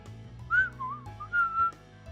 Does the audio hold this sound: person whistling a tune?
yes